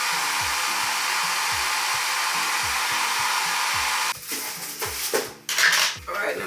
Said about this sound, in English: And blow dry.